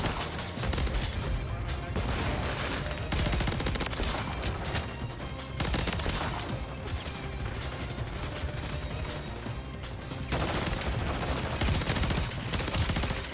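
BP50 gunfire in Modern Warfare 3 fires in long rapid bursts, loud and close, with repeated sustained volleys and brief pauses between them, no talk.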